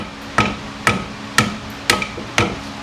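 Five sharp metallic hammer knocks ring out at an even pace, about half a second apart, as a part is driven out of the front suspension of a 2008 Pontiac Grand Prix, each strike close and clear with a short ringing decay.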